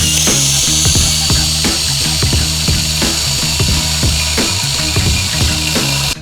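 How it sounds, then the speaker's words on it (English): A power drill grinds loudly and continuously at close range while drilling out the bolt holes of a cheap eBay turbo manifold for a Honda Civic, with rapid rhythmic chatter as the bit bites, then cuts off abruptly. "we're taking it off to drill it out more."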